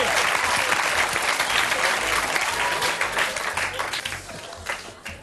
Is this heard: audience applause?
yes